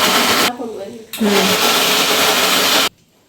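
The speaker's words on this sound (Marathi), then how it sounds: "नंतर असं दळून घ्यायचं मिक्सरमध्ये" A kitchen mixer grinder whirs loudly in two bursts, a short run followed by a longer steady grind of lime pickle pieces, then cuts off abruptly.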